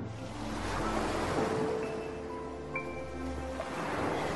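Sea waves wash in a continuous, moderately loud surf roar with faint tonal hums drifting underneath.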